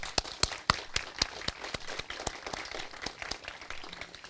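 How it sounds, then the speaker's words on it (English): Scattered, sparse hand claps from a small audience at a gallery opening gala, individual claps distinct and fairly quiet rather than a dense roar. "So a big round of applause to all."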